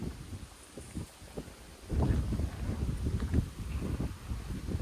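Wind sweeps across an open farm and buffets the microphone in uneven rumbling gusts, growing stronger about halfway through.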